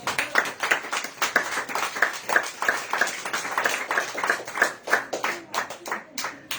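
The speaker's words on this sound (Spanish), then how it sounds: "Denle aplausos al Señor." Church congregation applauding, a steady run of rhythmic, fairly close hand claps lasting several seconds without a break.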